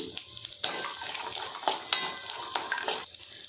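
Peanuts and cut coconut roast in a pan, giving a steady dry crackle and hiss with scattered scraping clinks of a stirring spoon, close and without talk.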